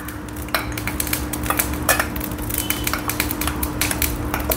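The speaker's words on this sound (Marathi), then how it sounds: "आपण हा थोडासा बारीक करून घेऊया" Boiled bottle gourd being mashed with a spoon, quick irregular clinks and scrapes of metal against a dish, close and steady over a low hum.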